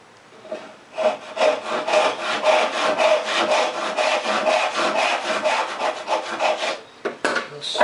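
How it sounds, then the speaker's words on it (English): A frame saw cuts a cheek in wood. Steady back-and-forth rasping strokes go on for several seconds, close and loud, then stop with a few faint knocks. No one speaks. "Let me finish my cobalt cheek cut."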